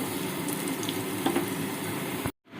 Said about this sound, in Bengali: আলুগুলো ছেড়ে দেবো এর মধ্যে। আলুগুলো ভেজে তুলে নেব।